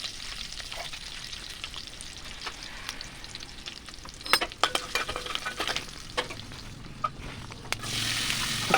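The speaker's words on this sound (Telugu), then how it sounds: "తర్వాత కొంచెం కరివేపాకు వేసుకొని కొంచెం పసుపు వేసుకొని ఫ్రై చేసుకోవాలి." Curry leaves, green chillies and turmeric fry in hot oil for potato fry, giving a steady close sizzle with scattered sharp pops and spatters, plus a few stirring scrapes near the end.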